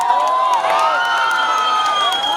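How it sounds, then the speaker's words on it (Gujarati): A crowd cheers and whoops with some clapping at the inauguration of a Kathiyawadi thali restaurant, excited voices rising and falling together, loud and close throughout. "એટલે તમારા માટે એકવાર પ્લીઝ તાળીઓ પાડી દો."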